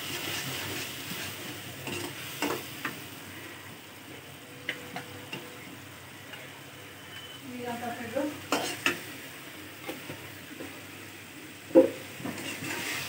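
Fish sautés in a pan with ginger-garlic paste and coriander powder, giving a faint steady sizzle. A few sharp utensil taps and scrapes come in scattered moments, with a louder clink near the end.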